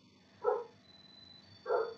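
Indoors, a dog gives two short, sharp barks about a second apart, moderately close and clear against a quiet background.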